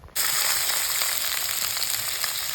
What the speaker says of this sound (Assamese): মই এতিয়া বনাইছোঁ আলু ডিম মটৰ নিৰামিষ ভাজি তেলত দিছোঁ